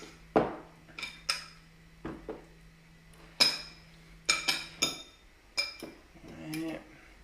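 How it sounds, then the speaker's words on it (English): Pieces of fish stirred in a bowl of egg and milk make a series of sharp clinks and clatters of utensil against dish, irregular and close, about a dozen separate knocks with quiet gaps between them. "just give a good stir around so they all get coated in that egg and milk"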